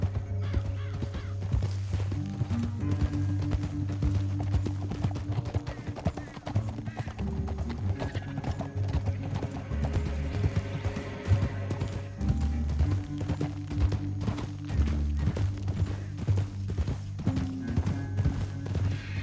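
Horse hooves clop rhythmically in Red Dead Redemption 2, riders moving through a canyon, a steady repeated beat under a low musical score with an occasional whinny.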